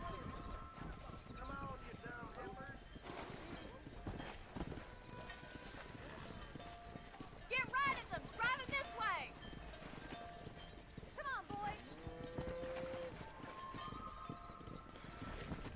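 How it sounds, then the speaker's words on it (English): Horses' hooves clip-clop steadily along a road while cattle are herded in the Red Dead Redemption video game, with a whinny or two and faint wind under a voice. "Herd the cows down the road."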